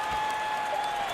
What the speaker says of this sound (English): Please give a big round of applause for your Cavaliers.